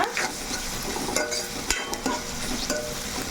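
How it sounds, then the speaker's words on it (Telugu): Onions fry in a hot pan, crackling with a dense, continuous sizzle while a spoon stirs them, scraping and clicking now and then, close and loud with no talk. "ఉల్లిపాయలు మనకి బ్రౌన్ కలర్లో రావాలండి ఈ కలర్ కాదు ఇంకా బాగా వేగాలన్నమాట"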